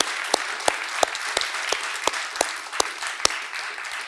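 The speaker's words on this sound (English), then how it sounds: "join me in a big hand of applause to the panelists and authors" An audience claps for seminar panelists and authors, bright sharp claps landing in a fairly regular rhythm, moderately loud and continuous.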